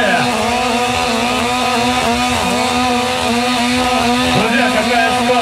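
Cheap chainsaws rip through wood during a speed-cutting contest, the engines droning loud and steady with a wavering, revving whine that never lets up.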